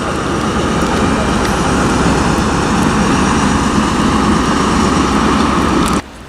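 A Class 387 electric train arriving from London Paddington rumbles loudly and steadily into Didcot Parkway station, a dense continuous roar close by that cuts off sharply near the end.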